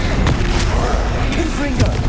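A Glacius ice spell is cast during Hogwarts Legacy gameplay, a brief loud rush of crackling, booming effects layered over dense game sound, with a voice calling out in the mix.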